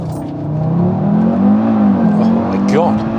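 An Audi RS3 pulls hard on a road acceleration run, its engine note rising steadily and loud throughout with a brief shift-like dip, close to the car, with a faint voice underneath.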